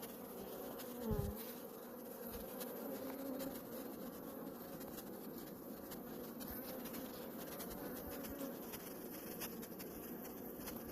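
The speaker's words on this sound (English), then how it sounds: "Just Starting to rain here, so the bees are getting agitated" Agitated honey bees buzz steadily around an open colony at the onset of rain, a dense continuous hum close by with shifting tones and one brief louder pass, no talk.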